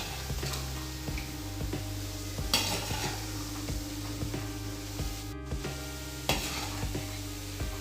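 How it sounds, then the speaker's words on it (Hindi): Chopped onion and green chillies fry in a pan for masala karela bhurji, a steady close sizzle broken by several sharp scrapes and clinks of a stirring spoon against the metal. "प्याज हरी मिर्ची डालने के बाद 2 मिनट फ्राई कर लेंगे"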